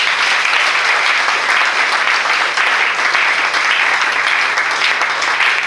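A church congregation at a Sunday service applauds and cheers steadily, a dense, loud, even wash of clapping that holds without a break from start to finish.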